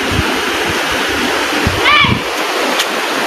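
River water rushes and splashes steadily throughout, a broad continuous outdoor flow near a riverside path, with people talking briefly over it.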